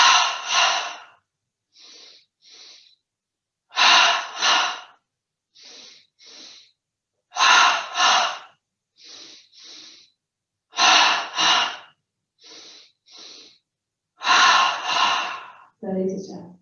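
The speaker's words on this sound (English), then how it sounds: "15 double breaths starting in the belly, breathing in through the nose twice" Paired sharp nasal inhalations during a yoga breathing exercise, each two-part sniff followed by a longer breath, repeating steadily in a close, clear rhythm with silence between rounds.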